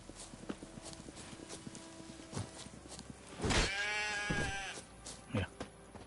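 A sheep bleats loudly while being hit in The Witcher video game, one long wavering bleat in the middle with a shorter cry after, set against faint hoofbeats and thuds.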